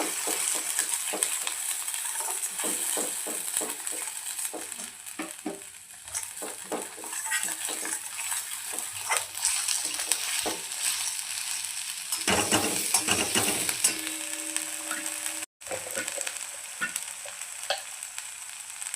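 Ginger garlic paste fries in a pan with onions for paneer matar sabji, a steady close sizzle broken by frequent spoon scrapes and clinks while it is stirred, with no talking.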